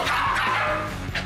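A dog yips and barks in quick, excited bursts at close range over a dense, noisy background.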